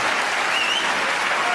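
An arena crowd applauds a snooker century break of 105, steady, dense clapping filling the whole moment.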